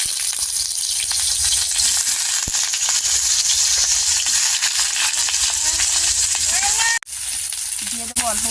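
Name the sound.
young jackfruit frying in hot oil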